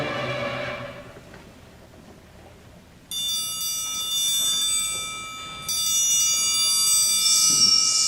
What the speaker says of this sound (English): One by one, every bell in the house began to ring out, and ring out loudly.